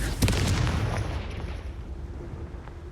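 A Confringo blasting spell from Hogwarts Legacy bursts with a loud close explosion, then a rumbling boom fades out over the next couple of seconds.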